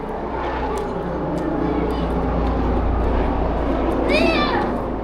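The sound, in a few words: helicopter flying overhead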